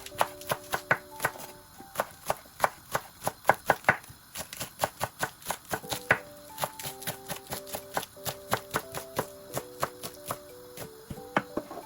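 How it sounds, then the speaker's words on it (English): Knife chopping spring onions on a cutting board in a home kitchen, a quiet run of rapid, close taps in uneven bursts with a brief pause midway. "I'm also going to cut up some spring onions."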